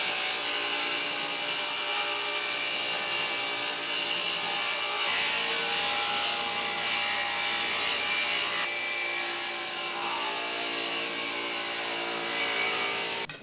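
A hand saw cuts through the side of an old wooden organ case to shorten it, a continuous close, rasping stroke-after-stroke sawing that keeps a steady rhythm throughout.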